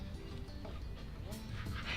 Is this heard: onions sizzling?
no